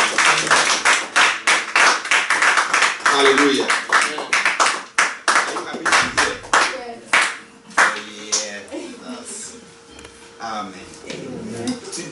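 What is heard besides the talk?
congregation clapping in church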